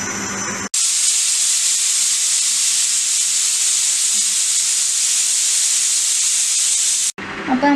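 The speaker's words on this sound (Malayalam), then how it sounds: "അപ്പോൾ നമ്മുടെ ബീഫ് വിസിലടിച്ച് 4 വിസിലടിച്ച് കഴിഞ്ഞിട്ടുണ്ട്." A pressure cooker cooking beef lets out a steady, loud, high-pitched hissing whistle that holds for about six seconds and then cuts off abruptly.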